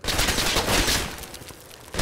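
.50 caliber gunfire in the video game Project Reality, a loud, rapid stream of heavy shots that hammers close by and then eases slightly in level, with no speech over it.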